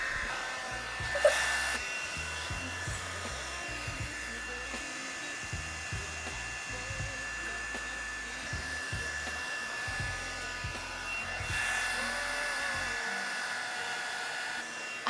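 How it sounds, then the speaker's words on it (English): A hair dryer blows steadily throughout at a close, loud level, with a few faint thumps and clicks beneath it. "You want way louder blow dryer?"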